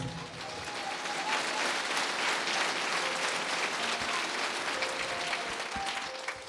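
A church congregation claps during a Christmas sermon preached in Quechua, with sustained, even applause from many hands continuing at a steady level throughout.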